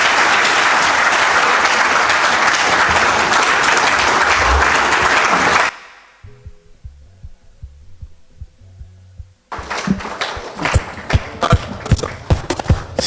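Crowd applauding the message of President Laurent Gbagbo, dense sustained clapping for several seconds, then a low throbbing hum, then renewed scattered clapping.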